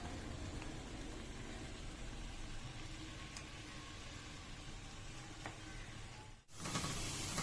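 Chopped onions frying in a pan for a chickpea curry, giving a steady, dense sizzle close by that holds without a break, with a brief dip near the end before the hiss returns more brightly.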